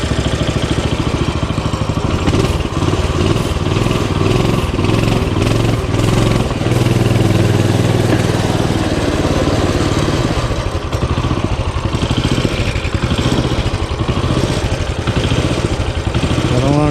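A Coleman CT200U mini bike's small engine idles roughly and unevenly for a long, steady stretch, loud and close, with clattering, uneven pulses that suggest a carburetor problem.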